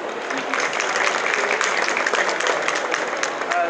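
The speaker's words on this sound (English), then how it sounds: "And do please keep that applause going for her interpreter today," Audience applause for an interpreter at a London food festival event, a dense, steady wash of many hands clapping that holds at an even level throughout, with some crowd murmur mixed in.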